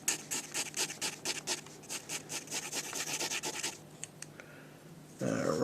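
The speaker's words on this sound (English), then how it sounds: "let's just tighten up some of the pencil here." Pencil scratching across paper in quick strokes while shading and tightening up a cartoon drawing, a close rhythmic rasp of short repeated passes, then a brief pause and a softer rub at the end.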